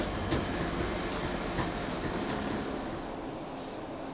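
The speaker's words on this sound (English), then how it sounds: "This train is now approaching Hounslow." A South Western Railway Class 458 electric train runs into Hounslow, heard on board as a steady rumble of wheels and motors with faint rhythmic clicks over the rails.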